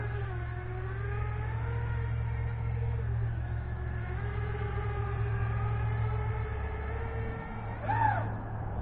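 A Diatone GT M530 FPV drone running on a 3S battery, its motors whining in steady tones that rise and shift as the throttle is raised, with a sharp upward sweep near the end, loud and close throughout.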